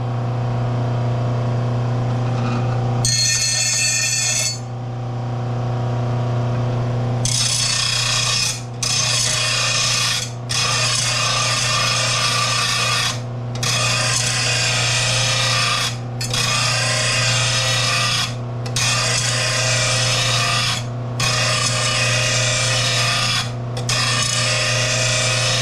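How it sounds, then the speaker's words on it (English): A nicked blade from a TroyBilt TB130 push mower, left in storage two years, is ground back against a grinder, giving a loud harsh rasping that comes in repeated strokes with short breaks, over a steady motor hum and no talk. "You have to grind it all the way back"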